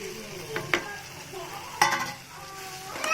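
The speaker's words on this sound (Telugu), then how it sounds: "ఇలా పైకి నూనె తేలిన తర్వాత మనము నూనెలో వేయించి పెట్టుకున్న రొయ్యల్ని వేయాలి" Already-fried prawns dropped into hot, separated oil and stirred, a close sizzle broken by a few sharp clatters of the spoon against the pan.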